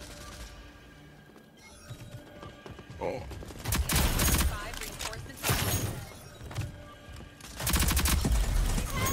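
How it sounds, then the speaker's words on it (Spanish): Loud bursts of gunfire break out in the shooter game Rogue, arriving in several separate volleys over a quieter start, with a person talking over them. "Uy, es un tiro, ¿eh? Un tiro."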